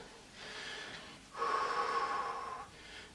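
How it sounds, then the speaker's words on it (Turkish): Two slow, heavy breaths after an exercise set, a long exhale then a stronger, louder one, close and alone in a quiet room. "derin bir şekilde nefes alıp veriyorum"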